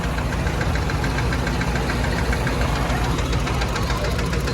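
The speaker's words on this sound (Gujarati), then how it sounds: "અહીંયા થ્રેસર હાલે" A tractor-driven grain thresher runs steadily on a farm, a loud continuous mechanical drone with a dense knocking engine rhythm and rattling vibration throughout, no voices.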